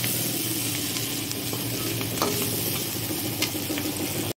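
Soybeans frying in hot oil in a pan give a dense, steady sizzle close up, with faint scrapes of stirring, continuing evenly until it cuts off abruptly.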